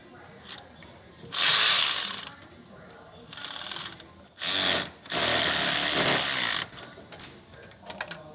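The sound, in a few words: electric ratchet tightening alternator bolt on Honda Pilot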